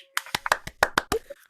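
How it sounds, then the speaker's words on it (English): A small group of studio guests on a radio show clap in a loose, uneven burst of sharp separate claps, close and fairly loud, with a cheer-like voice mixed in among them. "Can everybody clap?"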